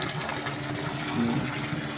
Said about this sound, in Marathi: कुंडात पाणी वाहत असते वर्षभर.